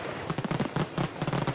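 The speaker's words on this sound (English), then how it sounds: "It started with a bang, with a huge fireworks display." A big fireworks display at a Christmas parade crackles and pops in a rapid, dense volley of close, loud bursts.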